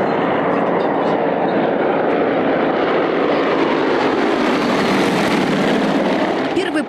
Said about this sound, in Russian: Летают на поршневых самолетах Як-52 и Як-54.